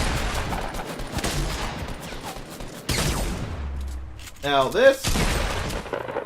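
Assault rifle fire from a video game shootout, with rapid cracking bursts that continue for several seconds and then break off. Someone talks over the shots.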